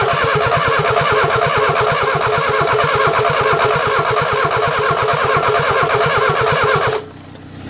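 A Renault 10 engine is cranked by its starter in a steady rapid rhythmic churn, loud and close, without catching, then stops abruptly.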